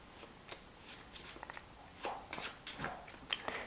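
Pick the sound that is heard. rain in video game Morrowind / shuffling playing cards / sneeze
shuffling playing cards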